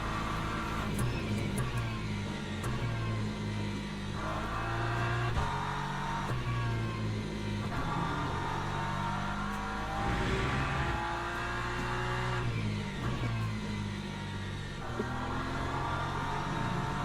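Hypercars in Le Mans Ultimate race past, engines revving and shifting loudly and continuously, with rising and falling passes layered over a steady close engine drone and no voices.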